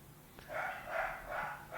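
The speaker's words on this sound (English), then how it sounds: "Oh, the dogs are going off, of course, because it is 8:05." Several dogs barking in the evening, a run of four fairly loud, evenly spaced barks or yips heard close by with no talk over them.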